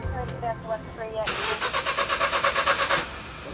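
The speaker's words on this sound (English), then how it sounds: "so it'll turn over, but it's just not going to start." A car engine is cranked with its leads removed: the starter turns it over in a rapid rhythmic chugging for about two seconds without catching, after a voice speaks.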